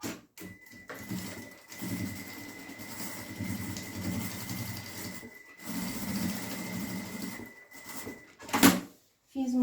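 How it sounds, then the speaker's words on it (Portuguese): A sewing machine stitches a bag in long, even runs of rapid mechanical whirring, close and clear, with short pauses between bursts and a sharp click near the end. "Fiz uma costurinha no tamanho do pé de máquina"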